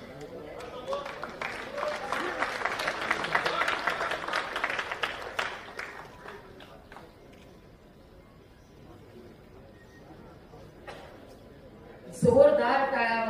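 Crowd applause at a Marathi Language Day felicitation ceremony, a broad wash of clapping swelling for several seconds then fading into quiet room noise, with a loud close voice breaking in at the end.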